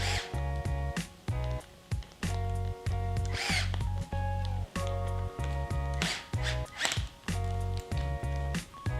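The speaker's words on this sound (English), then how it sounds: "I'll just kind of walk the bead-lock ring down little by little by tightening each screw, going back and forth" Tightening the screws of a bead-lock ring on a 1.9-inch RC crawler wheel with a small power driver, repeated short whirring bursts with brief pauses, close and steady, no talk.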